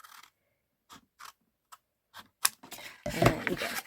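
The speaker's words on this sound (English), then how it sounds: "you can just do it with your scissors" Scissors snip through cardstock in a handful of short, sparse cuts, followed by a longer, louder burst of cutting near the end, close-up and quiet.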